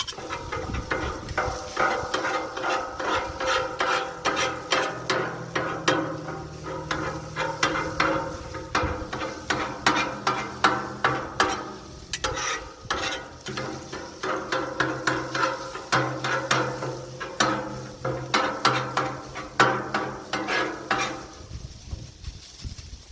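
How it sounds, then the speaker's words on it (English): Food being chopped up with a metal spatula on a Blackstone griddle while breakfast burrito fillings cook, giving steady rhythmic scraping and tapping strikes over a continuous sizzle. "So at this point now I can start to take this and begin to cut it up a little bit more."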